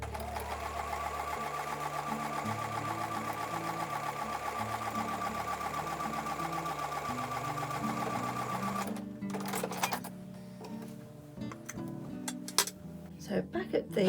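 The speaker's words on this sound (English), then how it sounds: "I'm going to take that back to the sewing machine." A sewing machine runs at a steady, rapid stitching rhythm for about nine seconds while sewing the last seam of a quilt block, then stops, followed by handling noises and fabric rustling.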